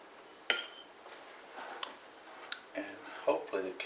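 Cooked pinto beans are scooped from storage into another bowl, giving a sharp metallic clink followed by softer scrapes and taps of a utensil against dishware, heard close and quiet amid a speaking voice.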